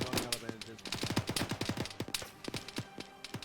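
Rapid gunfire in Arma 3, with dense bursts of sharp automatic shots crackling close and loud, then a few scattered single shots and faint distant pops toward the end.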